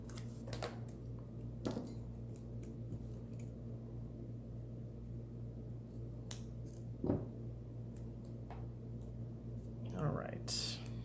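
Scissors trim paper for a Plum Paper planner, a few sharp close snips spaced apart over a steady low hum, quiet overall.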